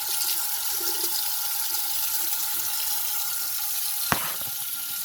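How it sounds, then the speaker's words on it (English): Water running steadily from a tap to rinse off a computer RAM module, giving a continuous hissing flow with one sharp knock near the end and no voices. "after removing the nodules, rinsing off the RAM will complete the process."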